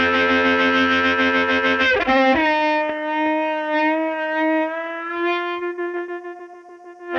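Overdriven electric guitar through a vintage 1950s Fender Tweed Deluxe tube amp: a strummed chord, then a sustained ringing note with natural tube breakup, alone and fairly loud.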